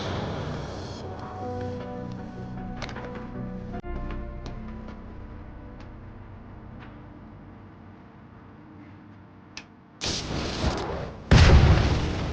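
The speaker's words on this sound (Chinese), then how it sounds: "这就是当晚发生的第一次爆炸。" Hydrogen gas from an overcharged, modified lead-acid electric scooter battery ignites, with two sharp, loud blasts near the end that follow a long, quiet tonal passage.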